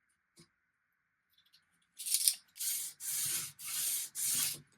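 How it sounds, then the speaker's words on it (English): A utility knife with a fresh blade trims excess wood veneer on a restored cupboard: after near silence, four or five close, rasping scrape strokes follow in quick succession. "To cut off the excess veneer, I used a fresh blade on my utility knife."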